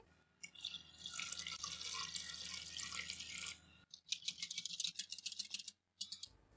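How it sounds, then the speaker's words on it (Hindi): About a litre of water splashes and trickles steadily into a bowl for a few seconds, pauses briefly, then resumes in shorter uneven bursts of dripping and pouring. "अब हम इसमें तकरीबन 1 लीटर के करीब पानी ऐड करेंगे।"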